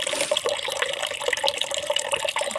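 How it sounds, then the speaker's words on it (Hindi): Water runs from a household tap in a steady, splashing stream, moderately close and continuous, with no voices over it. "तो अभी मैं दिखाऊंगा पानी कैसे आती है।"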